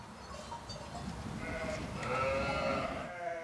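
Ewes bleat in a lambing barn at night during lambing season in Tarascon, several overlapping wavering calls, moderately near, over a steady rustling barn background.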